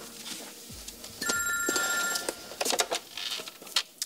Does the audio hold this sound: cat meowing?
no